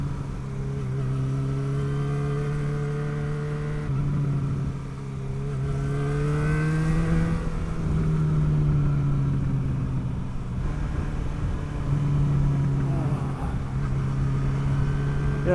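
A motorcycle engine drones steadily while riding, its pitch rising and falling gently with throttle changes, with a continuous close engine note and wind noise throughout.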